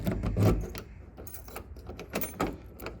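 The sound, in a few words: key inserted and turned in a 1968 Ford F100 door lock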